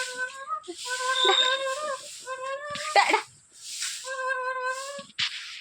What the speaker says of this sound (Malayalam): ആ പൂച്ച